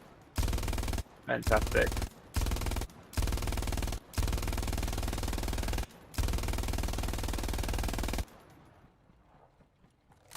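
A machine gun in Hell Let Loose fires several long automatic bursts with brief pauses between them, loud and close, ending abruptly. A voice speaks briefly during the firing.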